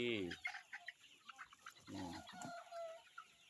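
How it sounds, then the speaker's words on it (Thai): Thai native chickens clucking close by, a burst of harsh, throaty calls followed by scattered short clucks, with an open-air background. "ไก่นี่ครับ เขาเรียกไก่ไทยครับ"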